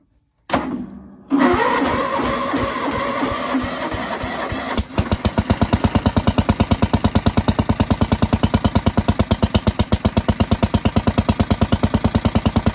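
A Massey Ferguson garden tractor engine, recently repaired after carburetor trouble, cranks and catches after a brief pause, then settles into a loud, steady, close-up chugging idle with no voices.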